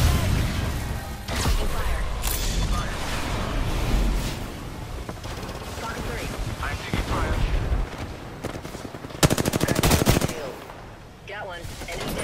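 Heavy gunfire in Apex Legends, sustained automatic bursts mixed with booms, running loud and dense throughout under occasional talk.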